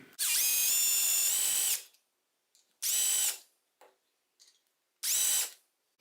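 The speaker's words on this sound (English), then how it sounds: "drill down with this self-centering drill bit" A power drill with a self-centering bit drills holes for door hinges in three bursts, one long and two short, with a high whine and quiet pauses between them.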